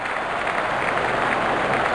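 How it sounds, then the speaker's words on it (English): Stadium crowd in the cricket video game Real Cricket 24 during an India vs Zimbabwe T20 match, a continuous roar of applause and cheering that stays even and moderately loud across the short stretch. "The crowd is enjoying every bit of this action."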